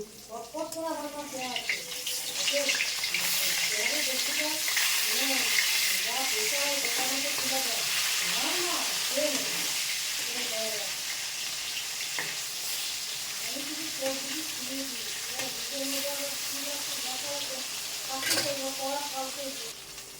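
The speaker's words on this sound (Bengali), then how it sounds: "এক ধাপ মাছ ভাজা হয়ে গেছে, আর এক ধাপ হচ্ছে" Large hilsa fish pieces sizzle steadily in a hot pan of oil on a home kitchen stove, with people chatting over the continuous crackle.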